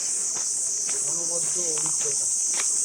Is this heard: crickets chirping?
yes